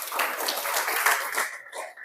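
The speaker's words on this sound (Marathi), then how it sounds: "प्रसेनजीत. टाळ्या." A group clapping together in a quiz session, a short burst of dense, fairly close applause that holds steady and then trails off near the end.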